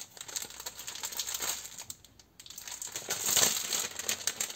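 Loud crinkling and crumpling of a craft kit's plastic packaging being handled and torn open, with a short quieter gap midway, close up.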